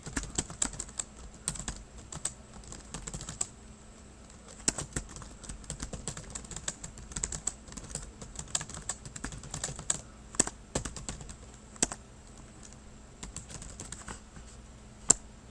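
Someone types a response on a computer keyboard, with quick irregular bursts of sharp key clicks and occasional louder keystrokes over a quiet room, near and clear, no voices.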